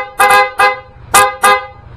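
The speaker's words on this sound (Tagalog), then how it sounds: "Busina" A horn sounds in four short beeps, a quick double toot followed by two more, loud and close.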